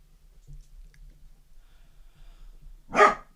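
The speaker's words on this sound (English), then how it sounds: "Silly dogs." A single dog bark rings out near the end of a quiet anime scene, short and fairly loud above a faint low background hum.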